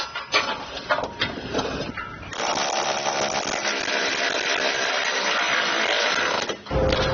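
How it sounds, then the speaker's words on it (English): An electric ratchet drives trailer hitch bolts on a 2018 Audi Q5: a few short taps, then a loud, steady whirring rattle for about four seconds before it cuts off, with no talking. "I'm going to be using an electric ratchet"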